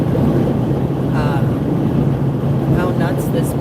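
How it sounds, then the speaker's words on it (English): Strong gusty wind buffets the microphone outdoors on a cold 36-degree day at a rally near an Amish farm in Lancaster, PA, a loud steady low roar throughout. "It's 36 degrees outside though, and like super, super windy"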